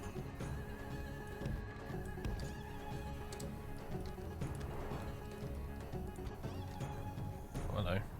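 Horses neigh and whinny among horse archers in a medieval battle in the strategy game M2TW Broken Crescent, the calls rising over a steady bed of battle din, with a louder whinny near the end and a voice speaking throughout.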